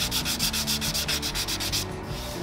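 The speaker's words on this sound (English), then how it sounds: "so I could get going on smoothing out this first layer" Hand sanding of a first coat of chalk paint on a solid wood stepstool: steady rhythmic back-and-forth rasping strokes, close and fairly loud, about a dozen passes before stopping, with no talk.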